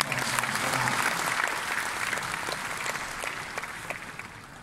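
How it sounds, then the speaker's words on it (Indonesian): Applause for the press at an Indonesian National Press Day gathering, a full roomful of clapping that starts dense and gradually thins into scattered, distinct claps. "Tepuk tangan untuk pers."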